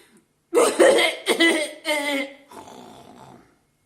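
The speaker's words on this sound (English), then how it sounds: "Just start coughing to make sure they stay clear" A person coughs deliberately in a few harsh, throaty bursts, loud and close, ending in a rougher, raspy cough.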